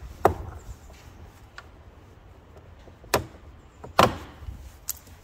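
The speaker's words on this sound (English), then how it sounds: "using a flat trim tool, start in one of the bottom corners of the door card and just put it in and turn it and pop the clips out" A flat plastic trim tool prises clips out of a car door card, giving two or three sharp pops and snaps spaced a second or so apart, close up against a quiet background.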